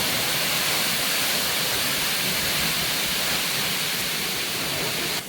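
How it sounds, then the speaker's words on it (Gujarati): Water gushes out at Shetrunji dam in Gujarat as a loud, steady roar of broadband rushing noise. It runs unbroken with no voices. "તમને જે ઝાલકું પાણી મારે છે ને એ બતાડું"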